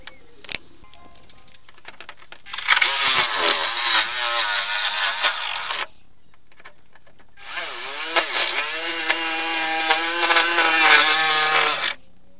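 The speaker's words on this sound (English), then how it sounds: "Right, so that's the two holes for the vents cut." Metal panel of a VW T4 camper being cut for two vent holes with a power saw: two long, loud rasping bursts of cutting separated by a short pause, with no talking.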